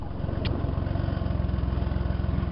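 A 1997 Ford Taurus wagon engine with its muffler cut off idles close by, a loud, raw, steadily pulsing exhaust rumble with a brief high squeak near the start.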